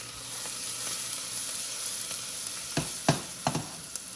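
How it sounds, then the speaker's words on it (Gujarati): Garlic, green chili, ginger and curry leaves sizzle steadily in hot oil for a bottle gourd vegetable dish, with a few sharp spoon clinks toward the end. "એ આ વઘાર આવ્યો અંદર. લસણ મરચા આદુ. લસણ મરચા અને મીઠો લીમડો."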